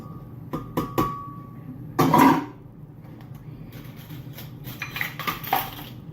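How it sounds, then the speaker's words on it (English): Drained tinned chickpeas tip into a food processor bowl, making a few sharp clinks followed by a short rattling tumble against the container, close and fairly loud, with lighter knocks afterward. "I'm just going to put those into my mixer, nice and easy."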